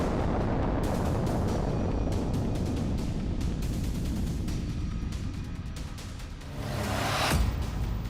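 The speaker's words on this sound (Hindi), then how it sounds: "परमाणु ईंधन से चलने वाली बोर्वेस्टिक मिसाइल फायर की" Russian nuclear-powered Burevestnik missile launch: a dense, continuous roaring blast with crackling bursts, loud and sustained for several seconds, swelling again into a harsher surge near the end.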